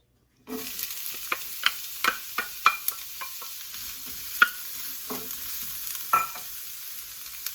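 Chopped onions and celery cooking in organic coconut oil in a skillet: a low steady sizzle starts abruptly and is broken by repeated sharp clicks and scrapes of a utensil stirring, close up with no speech.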